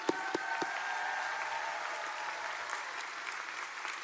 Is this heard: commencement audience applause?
yes